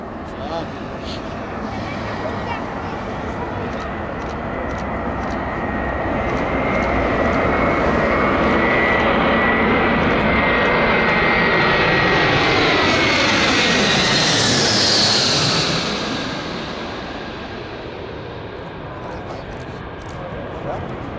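A landing aircraft approaches and passes low overhead at a funeral ceremony, its engine roar swelling, peaking with a rising then falling whine, and fading away, while people talk nearby.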